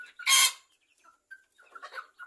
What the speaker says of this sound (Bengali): এখানে যে মুরগিগুলো ডিম পাড়ে আমি সেই মুরগিগুলো এখানে রাখি